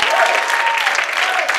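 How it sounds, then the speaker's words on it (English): A Pentecostal church congregation claps their hands in praise, a dense steady burst of applause that fills the room for a moment with a voice ringing faintly over it. "Let's give the Lord a good hand clap of praise."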